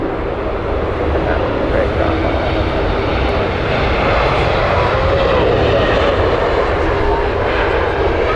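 A Finnair airliner taxiing at Heathrow Airport gives a steady, loud jet-engine roar that holds evenly throughout, with voices in the background.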